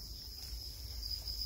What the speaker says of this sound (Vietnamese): Dế thì vẫn phải nuôi.